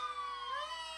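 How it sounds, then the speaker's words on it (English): Fire truck sirens at a Fourth of July festival parade in Southport, North Carolina, a loud wailing tone sweeping upward with layered harmonics, heard alone and fairly close. "Horns and sirens"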